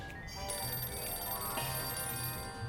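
Telephone ringing in the video game Sam & Max Save the World, a sustained electronic ring with bright tonal layers, starting just after the opening and repeating over background music with no talk.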